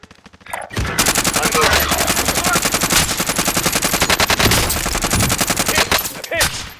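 Rapid sustained automatic gunfire from Call of Duty: Modern Warfare, loud and close, with dense bursts of shots running continuously for several seconds and a brief lull near the end.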